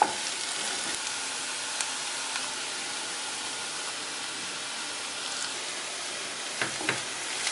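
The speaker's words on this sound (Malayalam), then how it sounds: "നന്നായി വഴറ്റിയെടുക്കാം." Onion, ginger, garlic and green chili sauté in a pan for a Kerala prawn dish, a steady close sizzle with faint stirring scrapes toward the end, no voices.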